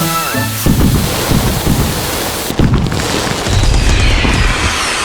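Video game fireworks exploding inside a house: loud, dense rumbling blasts roll on continuously, with a sudden heavier boom midway and a roaring wash of noise throughout.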